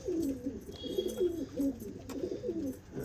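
Kept pigeons give a string of soft, throaty coos, several rolling calls in quick succession, fairly close and with no talk over them.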